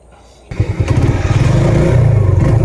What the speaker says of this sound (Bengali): বাইকটা আবারও স্টার্টে ডিলে নিচ্ছে